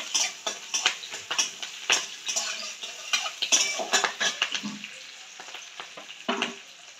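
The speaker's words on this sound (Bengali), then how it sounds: "পেঁয়াজ কলিটা একটু ভাজা ভাজা মতো করতে হবে।" Onion stalks fry in oil in a pan, a steady close sizzle broken by repeated scraping and clinking of a utensil stirring against the metal, with no talking.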